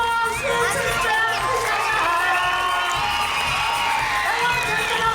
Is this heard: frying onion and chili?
no